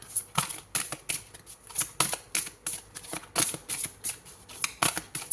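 Tarot cards shuffled and drawn from a deck, a steady run of crisp riffling flicks and slaps repeating close to the ear, with no talk over them.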